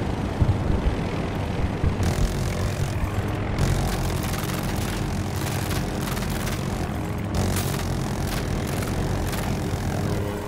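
Helicopter engine of the MD540 Nightbird in Battlefield 2042, a steady loud rotor and turbine drone with broadband roar throughout, punctuated by sharp bursts and thumps of combat.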